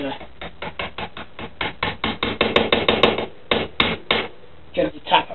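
A flathead screwdriver is tapped round to tighten a semi-sealed bottom bracket on a Giant bicycle, producing a quick run of sharp metallic knocks in an uneven rhythm, with short pauses between bursts, close and fairly loud.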